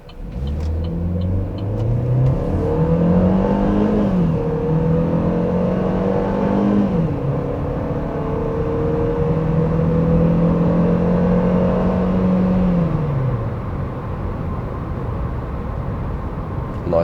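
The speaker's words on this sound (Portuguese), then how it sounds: "Primeiro vamos fazer um teste de aceleração de 0 a 100 com o câmbio automático na posição automática mesmo." A Chevrolet Cruze with a 1.8 engine and 6-speed automatic accelerates from 0 to 100 on the road. Loud, close engine revs climb repeatedly, dropping briefly at each upshift, with steady road rumble underneath.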